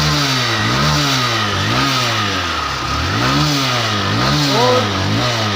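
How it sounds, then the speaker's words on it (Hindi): A new BS6 Hero Splendor motorcycle, its engine already running after a kick start, revs up and down repeatedly, the motor close and loud, rising and falling in pitch. "किक अप्लाई करने के बाद ये बाइक तुरंत स्टार्ट होती है"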